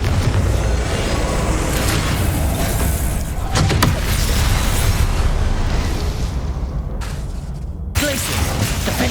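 Blasting explosions from a fire spell in the video game Hogwarts Legacy, with dense, loud bursts of booming noise running almost continuously and a few sharp cracks near the end.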